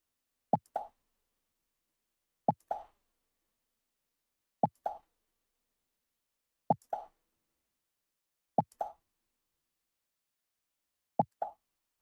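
A Scratch pop sound effect repeats six times at even intervals of about two seconds, each a short, clean plop with a quick double bounce, set against silence.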